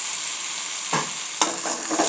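Okra stir-frying in a pan with green chili paste, a constant hissing sizzle broken by a few scraping stirs of a spatula, close and clear with no voices.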